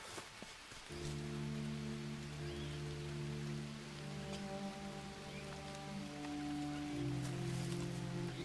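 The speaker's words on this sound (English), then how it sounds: "Sometimes I wish it would rain here forever." Steady rain pours through the Green Hell jungle in a survival game, a continuous dense hiss running the whole way, with low droning tones layered beneath it.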